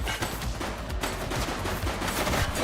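Continuous rapid gunfire from The Precinct police video game, a dense unbroken fusillade of overlapping shots at steady loud level with no talk.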